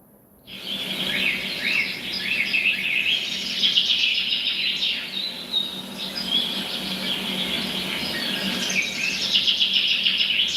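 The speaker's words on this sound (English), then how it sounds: "Some other beautiful birds in here." Several birds sing outdoors in a lively, continuous chorus of high chirps and warbling trills, with a faint insect hum running underneath the whole time.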